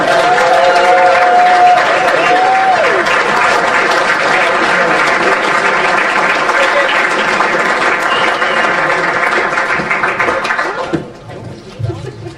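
An audience at an end-of-season awards night gives manager Grant McCann a warm welcome with loud, sustained applause that fills the room for several seconds, then fades out quickly near the end as a voice begins.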